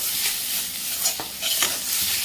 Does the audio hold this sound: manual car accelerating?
no